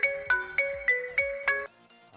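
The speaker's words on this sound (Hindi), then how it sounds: "मैंने सिंपल यहाँ से नोकिया का एक रिंगटोन डाउनलोड किया है" A downloaded Nokia ringtone plays on a mobile phone: a bright repeating electronic melody of about six evenly spaced tonal phrases, loud and clear with nothing behind it, stopping abruptly near the end and leaving brief quiet.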